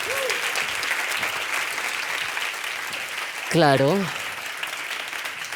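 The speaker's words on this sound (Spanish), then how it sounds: "Un aplausito, hijas." An audience applauds with steady, fairly faint clapping throughout, and a voice briefly speaks partway through.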